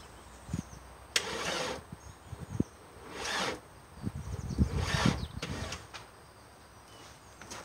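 A 1995 VW T4 Transporter with a 1.9 TD diesel engine cranks weakly on a 100 Ah battery in several short, labored bursts of about half a second, separated by pauses and scattered clunks.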